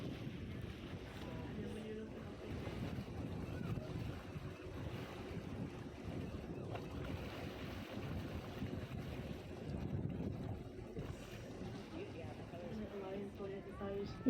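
A tour boat moves on the sea near Dingle in County Kerry, Ireland, between rocky cliffs, with a steady engine and water rush buffeted by wind noise under ongoing talk.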